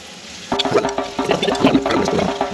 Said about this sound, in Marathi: अशा रीतीने सर्व पाणी जे आहे ते निथळून घ्यायचं आहे.